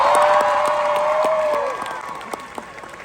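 Large San Diego Comic-Con crowd applauding and cheering with whoops in a big hall, loud at first and then thinning to scattered claps.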